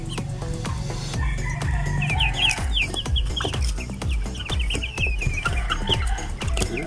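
Free-range Rhode Island mahogany native chickens clucking close by, with a rooster crowing and scattered bird chirps over dense, rhythmic clatter and thumps in the background, no speech.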